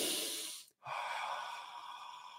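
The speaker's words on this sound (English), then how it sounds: "I have to do my fog breath." A calming fog breath exercise is heard as one long, breathy exhale, then a short pause and a sharp intake, and finally another slow, airy exhale that fades gently, close and alone.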